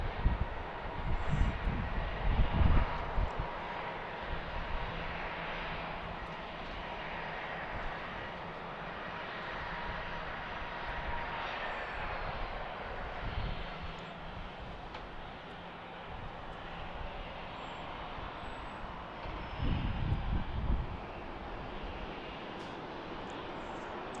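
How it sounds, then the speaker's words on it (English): A Sun Country airliner departing BWI airport, a steady distant jet roar that swells and fades across the whole stretch, with a few louder low bursts. "second Amazon Sun Country departure"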